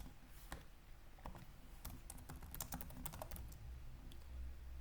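A computer keyboard clatters under quick fingers, bursts of crisp keystrokes tapping in irregular runs at low volume, close by and alone.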